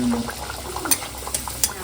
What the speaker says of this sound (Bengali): এখন বাকিগুলো চলছে ভাজা।